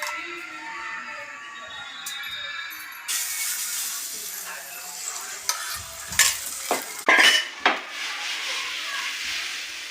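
Beaten egg is stirred in a hot pan, starting as a gentle sizzle before louder scraping spatula strokes arrive in uneven bursts over the frying hiss.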